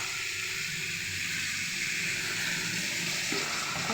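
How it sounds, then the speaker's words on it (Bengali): Water poured into a pan of fried pumpkin curry, giving a steady loud sizzling hiss with a bubbling, steamy wash that holds throughout, with no talking. "কষা হয়ে গেছে এবার জল দিয়ে দেবো"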